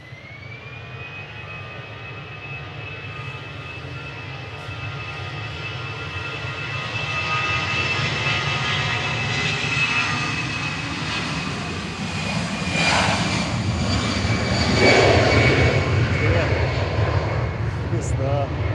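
An Aer Lingus Airbus A320 jet departing Manchester Airport for Dublin, its engine whine and rising roar building louder over nearly twenty seconds, with people talking nearby.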